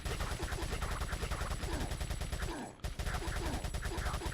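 A TMP submachine gun fires in Resident Evil 4 in a steady, rapid, loud burst of shots that breaks off briefly near the end and then resumes.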